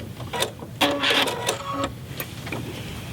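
A sewing machine with a digital dual feed walking foot and stitch-in-the-ditch sole plate runs over quilt binding in several short stop-start bursts of close mechanical whirring and clatter.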